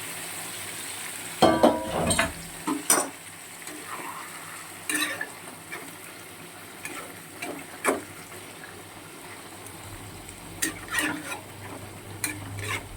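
Bombay duck (lote fish) cooking in a pan with turmeric and chili powder, a quiet simmering hiss broken by sporadic scraping and clattering of a utensil against the pan, close by, with no speech.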